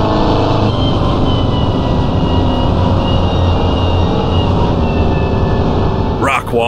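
A Mini Cooper in Assetto Corsa on tight Wicklow Mountains roads revs hard, its engine a loud, steady, close drone held at high revs, with a brief sharp burst of sound at the very end.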